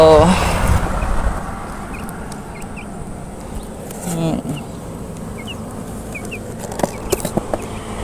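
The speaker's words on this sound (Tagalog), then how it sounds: "So ito po yung mga binili natin sa sisiw." Newly bought chicks and adult chickens in a backyard coop give faint, scattered high cheeps and peeps over steady outdoor background noise, with a louder clucking burst near the start and a few sharper sounds toward the end.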